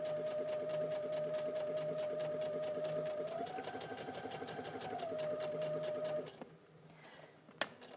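A sewing machine runs steadily at close range, stitching along gathered fabric with a continuous rapid mechanical whir that rises slightly in pitch midway, then stops, leaving a quiet pause and a single sharp click.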